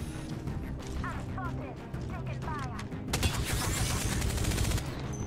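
Gunfire in Apex Legends, rendered as rapid clattering bursts of shots over a dense battle din, then a louder, heavier stretch of sustained firing near the end, all close and continuous.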